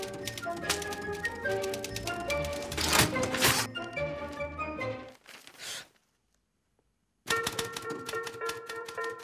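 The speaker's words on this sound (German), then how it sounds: "Das Einzige, worin ich wirklich gut bin, ist auf der Schreibmaschine." Rapid clacking of manual typewriter keys, with a bell-like ding and carriage sounds, fills a film trailer scene before a brief silence and a return of music-like tones.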